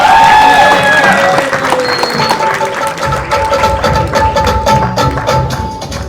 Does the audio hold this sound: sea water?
no